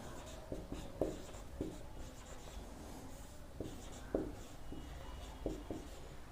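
A pen writes out maths exercise solutions on paper in a quiet room, producing soft continuous scratching broken by a series of sharper taps and strokes at an irregular pace.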